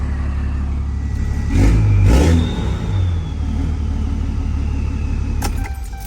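A truck engine idles with a low rumble, then blips into two short revs that swell and fade, settling back to a steady idle.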